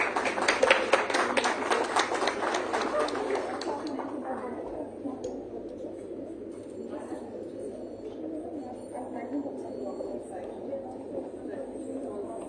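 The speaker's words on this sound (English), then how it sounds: "Let's have a round of applause for all of them." Applause for award winners at a Bharatnatyam performance event, a burst of rhythmic clapping for a few seconds fading into background room noise and faint voices.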